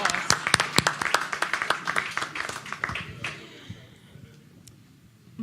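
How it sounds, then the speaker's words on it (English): Audience applause at a tourism summit conference session, scattered claps that thin out and fade to near silence after a few seconds. "Can I just take a second to applaud?"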